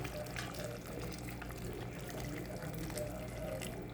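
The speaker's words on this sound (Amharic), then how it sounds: "ስላ ውሃ ጨምርበታለሁ" Water is poured into a pot of potato stew, making a continuous splashing, pouring rush with faint sizzling underneath, close and fairly loud throughout.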